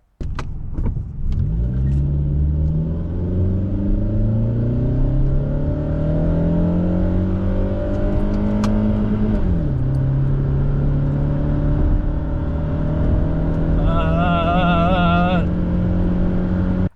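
A Toyota Camry accelerates hard from a standstill toward 60 mph, its engine note climbing steadily, shifting once, then pulling on at a sustained drone, close and loud.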